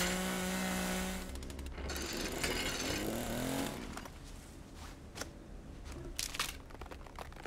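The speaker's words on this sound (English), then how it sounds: "That chainsaw is really good for healing." A chainsaw in The Culling video game roars with a loud, steady engine drone, then gives way to rougher grinding and crunching bursts with scattered sharp knocks toward the end.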